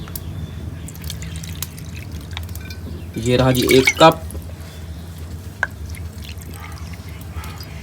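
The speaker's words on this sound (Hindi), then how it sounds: "कढ़ाई जो है वो चूल्हे के ऊपर चढ़ा देते हैं। ये ले, तो अभी डाल देते हैं इसमें पानी।" Cups of water are poured into a wok on a stove, heard as a short splashing pour in the middle of the clip, with someone talking before and after it.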